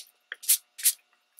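Two short hissing bursts from a spray bottle misting a water and alcohol mix onto paper tags, close by, separated by a brief pause.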